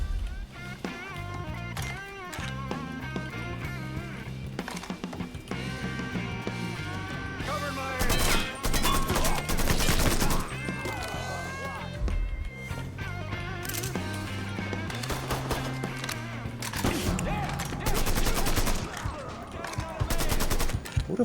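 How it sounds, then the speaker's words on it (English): Mafia 3 game gunfire sounds as repeated bursts of shots and rapid automatic fire, loud and close, over a rumbling game soundtrack. "Who the fuck is even shooting at me, like?"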